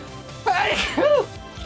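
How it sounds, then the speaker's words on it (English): A single sharp sneeze, a quick intake followed by a loud burst and a second fading exhale, close up in a quiet room. "Sorry, I just had to sneeze."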